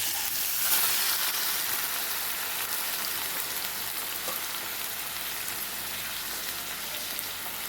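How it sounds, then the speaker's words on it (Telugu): Chopped tomatoes fry in oil in a pan for tomato pickle, giving a steady, close, hissing sizzle that stays even throughout with no talking. "ఇప్పుడు తగినంత నూనె పోసుకొని మనము ముందుగా తరుక్కున్నటువంటి టమాటాలని వేసేసుకోవాలి."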